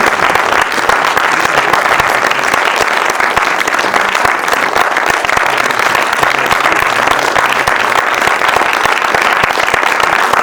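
Sustained audience applause following a talk at a popular university event in Perpignan, dense and loud throughout, steady clapping from a large crowd with no speech.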